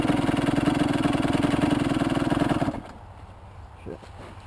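A Honda CR85 big wheel dirt bike engine runs close and loud with a fast, pulsing two-stroke idle that cuts out abruptly partway through, leaving quieter background noise, with people talking nearby.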